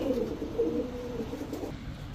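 Caged breeding pigeons coo softly in a low, rolling murmur, fairly faint and close, with a steady background hum.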